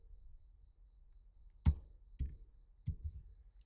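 Keystrokes on a computer keyboard while someone writes lines of code: three distinct, fairly close clicks spaced about half a second apart over a quiet background.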